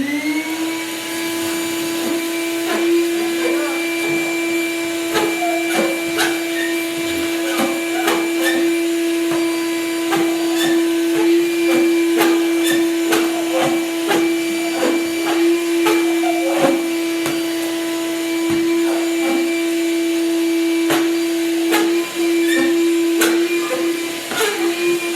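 A RIDGID 6 gallon WD6000 wet/dry vac runs steadily in a garage with a loud, constant motor whine, while debris clicks and rattles through the hose throughout.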